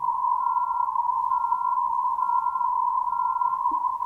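Steady sine test tone, close and unbroken, with a faint slow beating that swells and fades about once a second and a quiet noise floor beneath.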